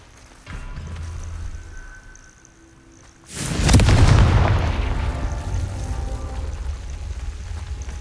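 A Confringo spell in a Harry Potter video game lands as a sudden heavy explosion, a deep booming blast that rolls out and lingers with a rumbling tail after a quieter lead-in.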